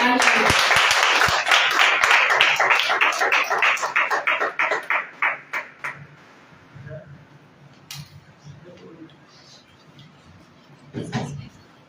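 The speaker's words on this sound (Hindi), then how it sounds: "और हम तालियां बजाकर" Church congregation clapping hands in welcome, a rhythmic burst of applause that starts loud and dense, then thins into scattered claps and fades out, with a few faint sounds after.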